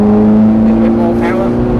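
A Ferrari F430 engine on the Thruxton circuit pulls hard under added throttle, a steady loud drone held close, with a voice talking over it.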